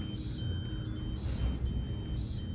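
Buzzer alarm from an Arduino Uno compatible board, switched on over Bluetooth, beeping in repeated high electronic bursts that are steady and moderately loud above a constant low background hum, with no voices.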